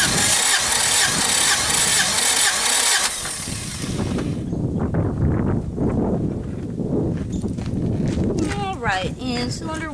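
An Acura Integra engine cranks over loudly and steadily for about three seconds during a compression test, then drops to a quieter rumble, with a voice speaking near the end.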